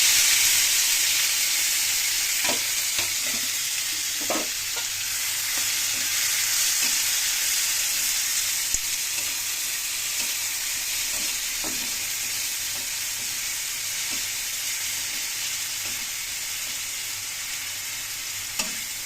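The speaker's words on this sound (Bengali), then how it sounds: "আমি এবার কড়ার মধ্যে তেজপাতা, গরম মশলা, আদা রসুন পেস্ট আর পেঁয়াজ লঙ্কা কাঁচা লঙ্কা টমেটো পেস্ট দিয়ে দিলাম।" Bay leaf, garam masala, ginger-garlic paste, onion, green chili and tomato paste frying in hot oil in a kadai, a steady bright sizzle with occasional scraping stirs, close and alone.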